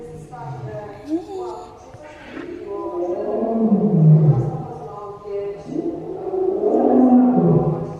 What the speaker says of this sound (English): I don't think I've ever heard a lion roaring in real life